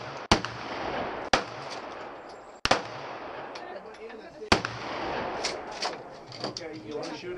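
Four sharp gunshots crack at a shooting range, spaced a second or two apart, each with a short echoing tail, while people talk quietly in the background between shots.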